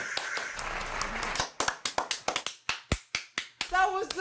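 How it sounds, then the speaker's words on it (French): Fans cheer and applaud after a BTS speech at the United Nations, with dense clapping in the opening half, then a run of separate sharp claps or taps and a brief voice near the end. "les fans sont sans surprise conquis et applaudissent à s'en faire saigner les mains"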